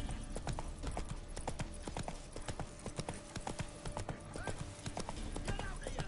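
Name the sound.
Roach the horse galloping, The Witcher 3 video game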